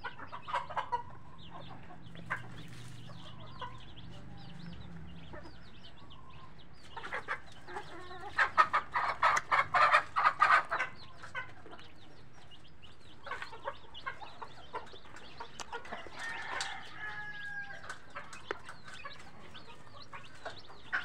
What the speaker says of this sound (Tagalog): Ito yung mga sisiyo, bising kumakain.